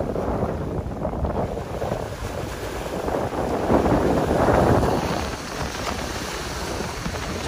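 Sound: strong waves and wind at the shore

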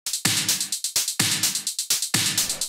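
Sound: simple electronic drum hits

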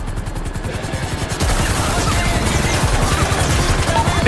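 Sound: gunfire in a video game

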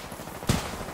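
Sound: gunshots in Titanfall 2 video game

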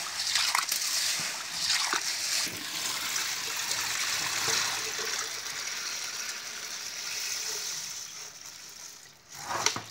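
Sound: washing pigeon peas in water

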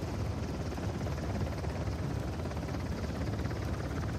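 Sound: helicopter in Uncharted: The Lost Legacy video game

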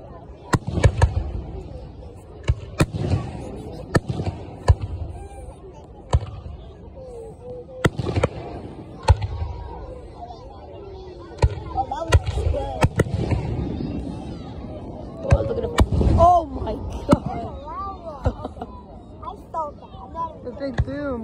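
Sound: Fourth of July fireworks exploding

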